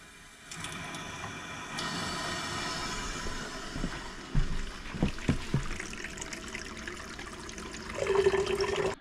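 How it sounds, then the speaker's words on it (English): Water drains from a cabin's water tank through a hose, a steady rushing trickle running nearly throughout with gurgling, splashing bursts in the later seconds, fairly close. "to take this off, I have to drain the tank, so I got my hose set up. So let's drain this."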